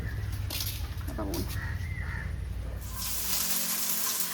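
Crows caw over a busy outdoor background with running water and faint voices nearby, the calls repeating irregularly and standing out only moderately against the clutter.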